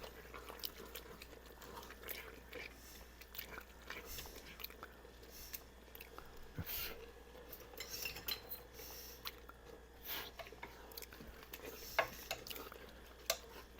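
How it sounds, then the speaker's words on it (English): Onion soup being stirred in a pot after salt is added, a quiet, continuous pattern of soft spoon scrapes and small metallic clicks against the pot over a low steady hum, with no talking. "I'm going to add the remainder of my salt and stir it up for about 2 minutes"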